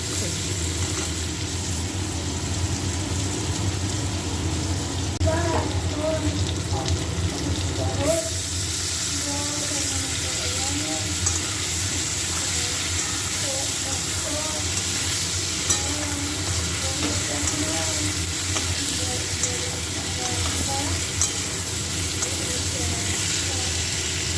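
Broccoli and vegetables fry in oil with a steady, continuous sizzle throughout, punctuated by occasional clinks and scrapes of stirring, while a voice speaks quietly in the background.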